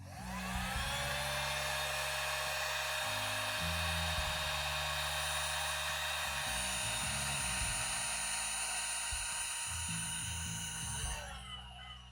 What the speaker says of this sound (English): Quickly take my heat gun to it.